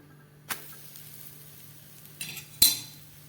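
A besan poli flatbread roasting on a hot pan gives a quiet, faint sizzle in a calm kitchen, broken by a few sharp utensil clicks and scrapes, the loudest near the end.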